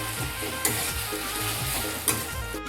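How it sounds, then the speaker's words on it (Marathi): Jaggery melting with a little water in a pan sizzles steadily up close, with a couple of brief scraping stirs, and no talking. "गूळ आता वितळून घ्यायचा आहे ह्याच्यामध्ये"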